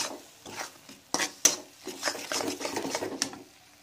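Spice masala for mutton keema is stirred and scraped in a pan, giving irregular scraping strokes and soft sizzling up close, with no talking.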